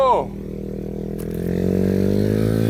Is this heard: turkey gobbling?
no